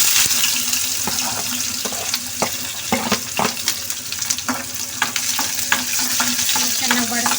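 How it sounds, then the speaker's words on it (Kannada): Onion sizzles steadily in a hot pan for an egg fry, a dense, close crackle with frequent sharp pops and spoon scrapes throughout. "ಈರುಳ್ಳಿ ಹಾಕ್ತಾ ಇದ್ದೀನಿ."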